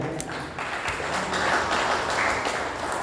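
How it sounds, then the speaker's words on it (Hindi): An audience claps steadily in dense, continuous applause for a strongman stunt of being struck with hammers, with a loud crowd filling the whole moment. "एक तालियों के साथ तालियां तो बनती हैं।"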